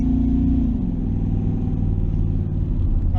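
Camaro race car engine revving to 7,000 RPM on a missed shift: a loud, steady, deep mechanical drone that holds high throughout, with a slight dip in pitch early on.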